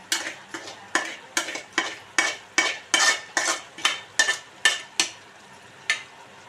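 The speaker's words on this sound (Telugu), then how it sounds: "ఈ మటన్ ముక్కలు అయితే మిక్స్ చేసేయాలి." Mutton pieces stirred into curry in a pan, a regular series of about a dozen scraping spoon strokes against the pan, close and fairly loud, over a soft sizzle.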